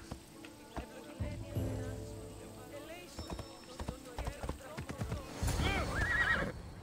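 A horse in the video game Assassin's Creed Odyssey whinnies and snorts over rapid clip-clopping hooves, with a voice talking at times over the steady galloping.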